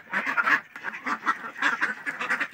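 Pet ducks quack in a steady chorus of overlapping, nasal calls, close and moderately loud, with no talk over them.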